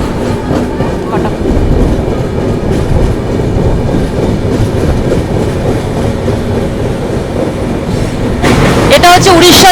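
A passenger train on the Chennai to Kolkata run rolls across the long Mahanadi bridge near Cuttack, a loud, steady rumble with rhythmic wheel clatter that swells near the end, heard from on board.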